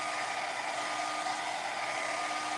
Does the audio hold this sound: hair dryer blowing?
yes